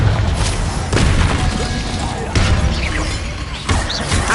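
Confringo spell explosions in Hogwarts Legacy during a fight, three or four sharp booming blasts spaced about a second apart over continuous battle noise.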